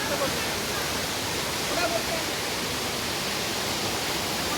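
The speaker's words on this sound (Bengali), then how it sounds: "এই ঝর্ণার জল পড়ছে" Waterfall at Ghatshila pouring steadily, a dense unbroken roar of falling water close by that masks faint voices.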